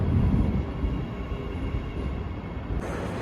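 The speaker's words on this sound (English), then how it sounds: "The train is about to leave." An Adelaide metro train at the railway station, a steady loud rumble of the train with a slight shift in tone near the end and no voices.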